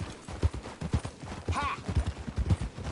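Horse hooves clip-clop in a steady trotting rhythm, loud and close, in a Red Dead Redemption 2 game scene, with a brief whinny-like tone midway.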